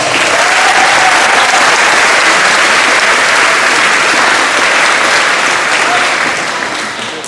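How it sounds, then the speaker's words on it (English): Students from pre-K through twelfth grade applaud at a Moving Up Day school ceremony, a loud, thick, unbroken roar of clapping from a large crowd that tapers slightly at the end. "So let's give yourselves a round of applause."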